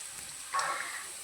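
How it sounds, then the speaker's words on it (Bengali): Chopped onion and slit green chillies hit hot oil, giving a soft, steady sizzle that swells suddenly halfway through and carries on fairly faint and close, with no talking. "তারপর দিয়ে দেব কুচনো পেঁয়াজ আর চেরা কাঁচা লঙ্কা।"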